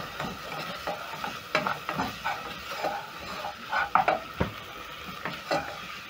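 Beef stew ingredients, tomatoes and tomato paste among them, are stirred in a pot, making repeated close scraping and clacking strokes of a spoon over a low simmering sizzle, with no talking.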